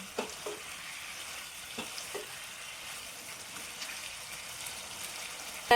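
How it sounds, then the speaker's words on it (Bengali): Fish curry masala frying in oil with a steady, quiet sizzle, broken by a few soft scrapes of stirring scattered through, with no voices. "এটাকে একটু নাড়াচাড়া করে আরও দশ মিনিট এটাকে ভালো করে কষিয়ে নিলাম"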